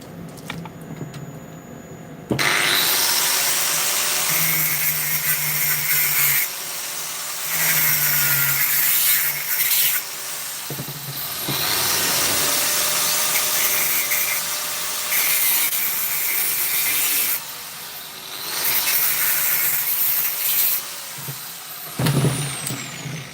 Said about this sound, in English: So I'm going to try and remove this mesh without cutting the actual basket.